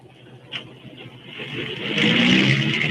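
Road traffic of trucks, buses and cars approaching, a motor hum that swells steadily louder as a vehicle draws near, with a brief knock early on.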